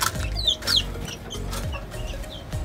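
Five-month-old Escolin-line chickens on a farm cluck and make short chirpy calls, several birds close by with a steady low background.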